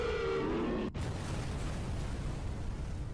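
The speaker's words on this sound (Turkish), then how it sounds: "Patladı." An explosion in a Skibidi Toilet animated episode: after a brief cut, a loud, sustained, rumbling roar fills the rest of the clip, replacing the tonal sounds heard at the start.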